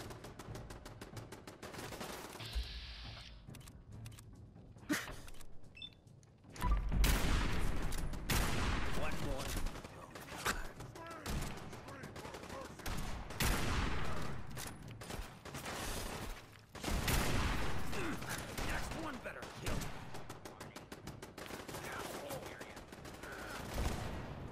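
A .50 caliber sniper rifle firing in the video game Fallout 4: several heavy, booming shots spaced across the stretch, loud against busy combat noise, with a player talking at times.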